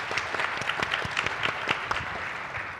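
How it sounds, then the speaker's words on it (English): Conference audience at a finance tech and operations event applauding its speakers, a brisk, steady patter of many hands clapping at moderate volume. "And a round of applause for our speakers."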